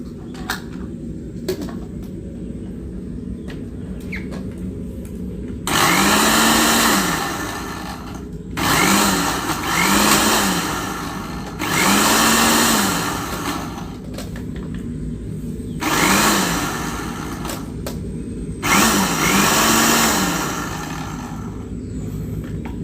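A blender grinds a termite mushroom mixture with water in several loud bursts of a few seconds each, its motor whining and pitching up between pauses, with faint background noise in the gaps.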